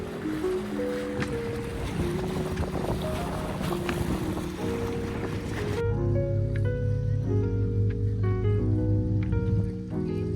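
A boat pushes across open sea near Zadar, Croatia, its engine a steady continuous drone under wind rush and wave wash, loud and unbroken for the whole stretch with no voices.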